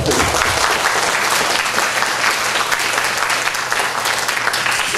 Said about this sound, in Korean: 동의해서 박수 한번 치시죠